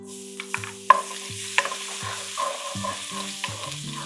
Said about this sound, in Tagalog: let's begin to saute our aromatics with a little bit of Beaoliva olive oil